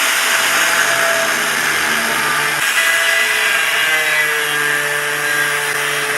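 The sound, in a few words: angle grinder cutting steel pieces for a welding cart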